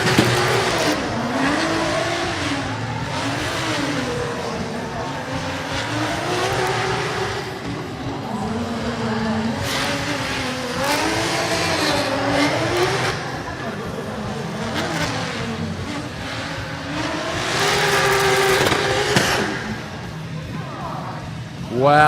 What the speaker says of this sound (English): next driver now in his first qualifying run from the USA, Michael Esser in his BMW